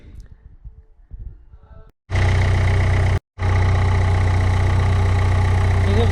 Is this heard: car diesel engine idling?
yes